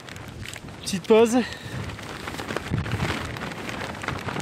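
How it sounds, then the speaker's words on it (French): Strong high-mountain wind roars and buffets steadily against the microphone, with a short burst of voice near the start. "il y a énormément de vent comme vous pouvez le voir et l'entendre"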